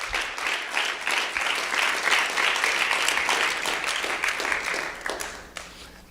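Sustained crowd applause at a religious sermon about the biblical flood, dense and steady for about six seconds with a few louder claps near the end, no voices over it.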